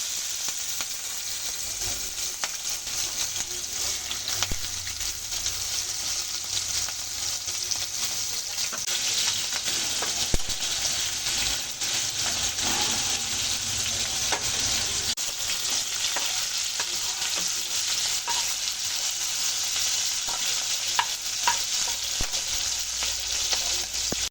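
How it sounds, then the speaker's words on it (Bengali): Prawns fry one by one in a pan at home for mixed fried rice, giving a steady, loud, continuous sizzle with scattered crackles and pops throughout, no voices. "এবার চিংড়ি মাছগুলো এক এক করে ভেজে নেব"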